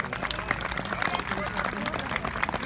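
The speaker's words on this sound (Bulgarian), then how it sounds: "Моля вашите аплодисменти." Applause from the crowd at a Todorovden horse race in Konyovitsa, honoring the runner-up rider and his horse Arkan; dense, steady clapping that continues throughout under an outdoor din.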